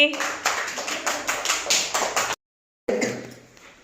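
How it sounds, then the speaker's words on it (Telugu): Grade 1 and 2 schoolchildren in a classroom clap in a quick, even rhythm for a couple of seconds, then a brief silence, then a last scattering of claps. "క్లాప్స్ కొట్టండి"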